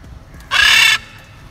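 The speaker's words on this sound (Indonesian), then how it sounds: "Ada gagak banyak" A single harsh caw from a crow in Melaka city, one loud close call lasting about half a second against quiet street background.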